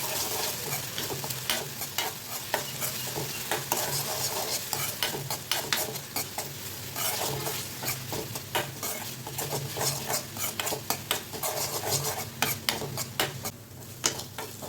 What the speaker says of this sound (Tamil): இப்போ நம்ம இஞ்சி பூண்டு பேஸ்ட் சேர்த்துக்கலாம். நல்லா வதக்கி விட்டுக்கலாம்